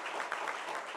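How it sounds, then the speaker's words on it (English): An audience at a Black homeownership anniversary event gives a brief round of applause, a soft, distant patter of many hands that stays even and faint throughout. "Let's give her a round of applause."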